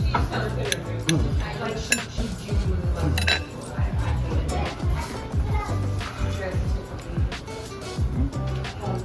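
A knife cuts through white meat like a pork chop on a plate, producing repeated scraping and clinks of cutlery on the dish, close up, while people talk over it.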